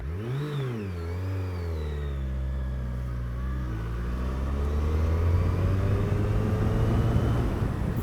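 Engine of a 2021 Suzuki Hayabusa motorcycle pulling away from a standstill in third gear, a steady mid-pitched engine note that rises and deepens into a louder, sustained drone, close and alone without talk.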